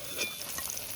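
Fresh Ganges hilsa fish sizzles as it fries in a pan over a village clay stove, a soft, steady hiss and crackle heard briefly and up close.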